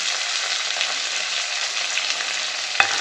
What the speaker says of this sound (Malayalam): പച്ചമുളക് നല്ലപോലെ ഇളക്കി കൊടുക്കാം.